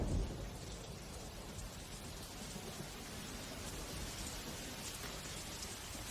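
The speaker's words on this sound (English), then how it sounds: "Thunder in the distance." Heavy monsoon rain pours steadily in tropical Asian forest, a dense continuous hiss with low, distant thunder rumbling beneath it.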